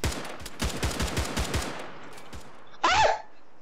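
Rapid automatic gunfire in an Arma 3 one-on-one deathmatch at a factory: a fast, close burst of sharp shots, a few scattered follow-up rounds, then a brief tonal whine near the end.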